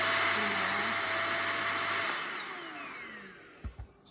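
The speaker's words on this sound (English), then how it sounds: "I like make sure I get the filter out and hoover that as well" A Shark vacuum cleaner hoovers its removed filter, a loud steady high-pitched whine with a low hum that winds down and fades over the last seconds, followed by a couple of soft knocks.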